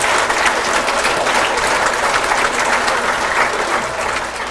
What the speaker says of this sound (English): Why don't we all applaud again?